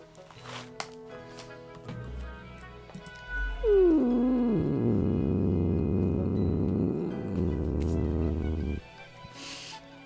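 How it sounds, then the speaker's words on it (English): In the video game Death and Taxes, a cat lets out one long, low, drawn-out growl that falls in pitch and rumbles on for several seconds, quiet and unbroken against background game music. "That was a long growl."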